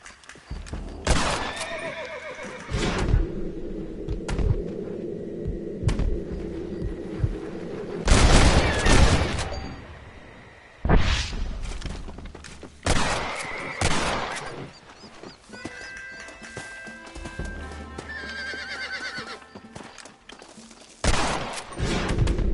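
Bursts of loud gunfire ring out during a shooting contest in the Red Dead Redemption video game, mixed with horse whinnies, clip-clopping hooves and game music, with no talking.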